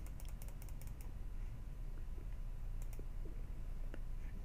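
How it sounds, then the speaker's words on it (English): Rapid mouse clicking while playing the Cookie Clicker game, a fast, irregular stream of faint dry clicks against a soft steady background hiss, with no talking. "It's clicking pretty dang fast"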